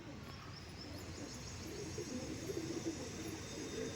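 Pigeons in a loft, a master pair feeding their young, give soft coos and chirps over a steady, noisy background hum. The calls sit low and close, and nobody speaks.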